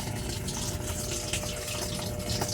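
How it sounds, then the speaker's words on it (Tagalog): Water rushes steadily into a Samsung automatic washing machine as it fills during a leak test, a continuous broadband gush like a running tap or pump, close and even throughout with no talking. "testing na namin kung may tumutulog pa ba na tubig."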